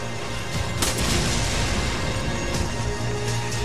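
A loud, sustained explosion in Resident Evil 5 rumbles with dense, booming low-end roar and crackling debris throughout, with no voices.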